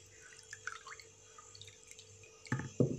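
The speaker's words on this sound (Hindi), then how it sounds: "ये स्ट्रॉबेरीज ऐसे उठानी है और इसको इस तरह पानी में डिप करना है" Strawberries are dipped into a bowl of water mixed with vinegar, giving soft splashes and drips, quiet and close, with a couple of louder sloshes near the end.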